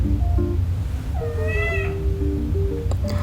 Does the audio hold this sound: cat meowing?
yes